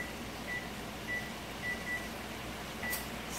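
A kitchen timer chirps while canoas cook on low heat: several short, high, evenly spaced beeps, fairly faint against a steady background hiss, with no talking.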